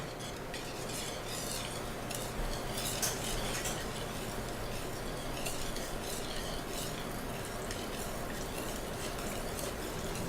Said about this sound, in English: now she's going to carefully mix our chocolate donuts together